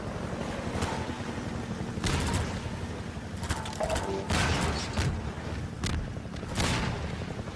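Half-Life 2 combat with repeated bursts of gunfire and booming blasts over a steady droning mechanical roar, dense and continuous with no talk.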